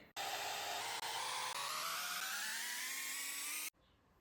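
A hot air brush blows steadily close by while drying and volumizing hair at the crown, a loud whirring hiss that holds for several seconds, briefly dips twice and then cuts off.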